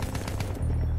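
Gunfire in the World War I shooter Battlefield 1: a dense, loud burst of rapid shots in a single continuous second, with a low rumble underneath.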